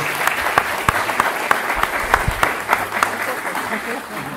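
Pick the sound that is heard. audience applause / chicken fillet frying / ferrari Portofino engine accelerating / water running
audience applause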